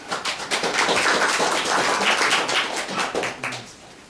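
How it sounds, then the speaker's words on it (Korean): Audience applause at a Seagate Momentus XT second-generation product presentation, steady dense clapping from a crowd lasting about four seconds and tapering off at the end. "앞으로 박수 한 번만 부탁드리겠습니다"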